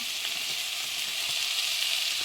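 Diced onion hitting hot oil in a pan, a loud, dense, continuous sizzle that holds steady for a couple of seconds with no talking.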